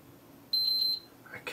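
Three short, high electronic beeps in quick succession, fairly quiet against a near-silent background.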